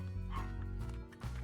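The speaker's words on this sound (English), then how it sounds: "You're barking, which is why you're staying out there." A dog barks and yips in a couple of short bursts close to the microphone, with a whimpering tone between them, set against a steady low hum.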